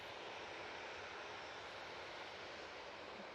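A Qatar Airways Boeing Dreamliner, flight QR22 to Doha, takes off from Manchester Airport, a faint, steady, distant jet roar with no voices.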